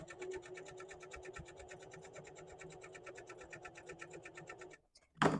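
A sewing machine stitches a coiled rope basket with a steady, fast, even mechanical chatter, running continuously up close, then stopping abruptly before a brief rustle of handling.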